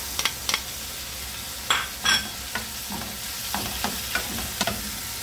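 Garlic and onion sauté in a pan for chicken adobo, with steady soft frying under scattered stirring scrapes and clinks of a spatula against the pan, close and moderately loud.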